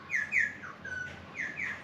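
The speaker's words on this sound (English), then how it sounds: "Good morning, birds." Birds chirping on a morning outside a beachfront junior suite with a patio and swim-up pool in Curaçao, several bright tweets in short bursts with pauses, moderately close over a soft outdoor background.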